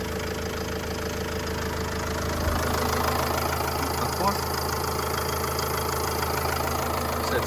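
A 2010 Opel Vivaro passenger van's 2.5-litre 150 hp engine idles steadily with a low continuous rumble, a voice talking over it for much of the time.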